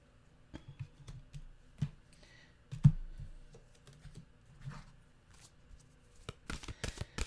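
A deck of mantra cards is shuffled and handled in soft, papery riffles and taps, ending in a quick burst of close shuffling at the end.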